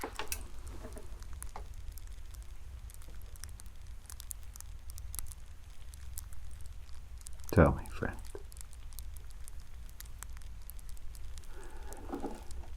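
A crackling fireside fire burns in the background, with soft, steady crackles and pops running throughout while someone speaks over it.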